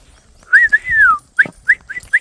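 A puppy whimpering angrily, a long rising-and-falling whine followed by several short sharp yelps and whimpers, close and alone with no talk.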